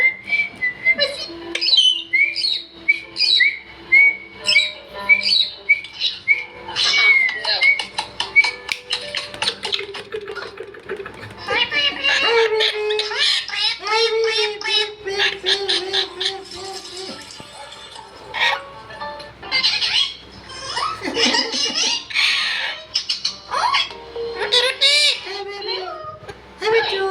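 A parrot being trained to talk squawks, whistles and chatters in repeated bursts, fairly close and loud, with people's voices mixed in among the bird calls.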